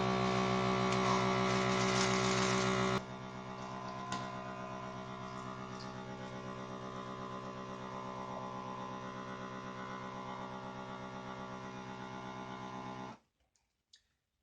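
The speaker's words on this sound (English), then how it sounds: "once I hit this vacuum and seal button, I'm going to help this baby massage some of this air out" A vacuum sealer pumps air from a plastic bag holding a beef roast, a steady droning hum that is louder for the first three seconds, then continues a little softer and unbroken for about ten more before cutting off.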